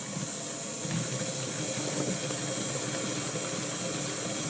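An electric mixer beats cake batter on high speed for an earthquake cake, giving a steady, even whirring hiss with no pauses and no talk.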